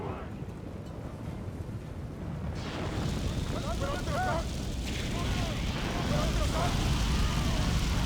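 Troops open fire during a Battle of Constantinople clash in a Crusades strategy game, producing a loud, continuous rumble of gunfire and blasts that builds in intensity, with a voice talking faintly over it.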